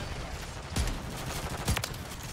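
Two close, loud shotgun blasts from the Reclaimer 18 in Call of Duty MW3, about a second apart, each a sharp punchy boom over a constant hum of game ambience.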